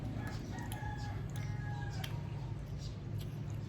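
Chickens cluck and call faintly in the background over a steady low hum, with a few short crowing notes, some distance away.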